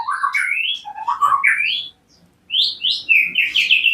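A white-rumped shama (murai batu), just finished molting, sings in loud, close bursts of bright warbling whistles and chirps, broken by a short pause before the phrases resume.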